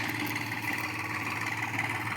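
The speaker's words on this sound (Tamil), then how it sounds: "அங்கே இருக்குது பாருங்கள் எங்கள் ட்ரக்கு" A truck engine idles steadily close by, a continuous low rumble with a mid-range hum and faint vibration, holding even with no voices over it.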